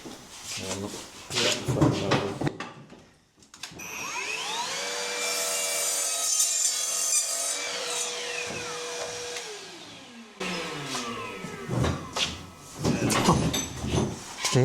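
A cordless chainsaw whines as it bites into wood with nails for several seconds, its pitch steady, with clattering and handling noise before and after.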